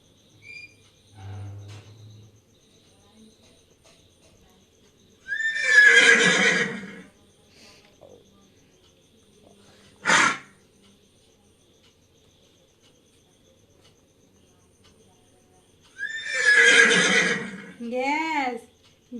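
Recorded horse neighing played back, two loud drawn-out whinnies about ten seconds apart with a sharp click between them, and quiet gaps around them.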